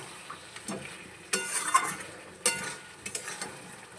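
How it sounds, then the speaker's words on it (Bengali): Chicken being sautéed for kosha sizzles softly in a pan while a spoon stirs and scrapes it, with a few clearer clacks against the metal and a low, steady frying hiss underneath. "চিকেনটা হোক কষা হোক কেবল বসালাম এখনও"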